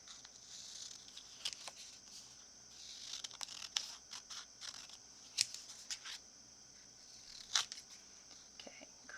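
Paper being snipped with scissors while cutting out journal pages, a string of short crisp cuts and rustles at close range, faint and intermittent against a quiet room.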